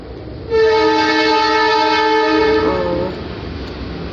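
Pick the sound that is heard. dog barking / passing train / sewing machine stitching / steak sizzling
passing train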